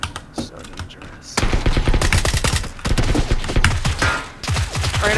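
Rapid bursts of automatic gunfire from PLAYERUNKNOWN'S BATTLEGROUNDS ring out loud and close in sustained volleys, broken by a brief pause, with a player talking over the shooting.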